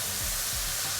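Chicken gizzards sautéing in a pan give off a steady, soft sizzle and hiss, continuous and moderately quiet over the short moment.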